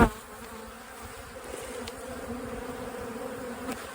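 Honey bees buzz steadily at a hive, a dense, continuous drone close by with a sharp knock at the start and no voices.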